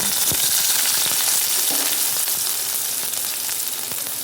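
Chopped onion frying in a pan, a steady loud sizzle throughout with a few soft clinks of stirring.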